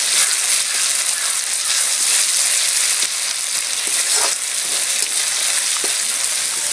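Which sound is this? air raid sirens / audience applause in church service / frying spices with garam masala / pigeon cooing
frying spices with garam masala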